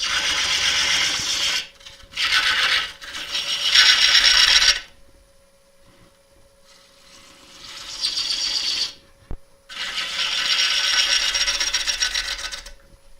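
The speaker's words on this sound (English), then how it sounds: "Shame I can't speed the lathe up anymore" A wood lathe turning a gnarly crotch piece of wood at low speed with a sharp gouge, producing loud hissing, rasping cuts in several long bursts separated by quiet gaps, heard close with no talk.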